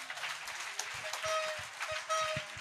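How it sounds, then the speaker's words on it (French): Applause rises from a crowd at an outdoor Christian salvation and healing crusade in Bafoussam, a steady wash of clapping heard at moderate distance, with low thumps scattered through it. "Acclamation."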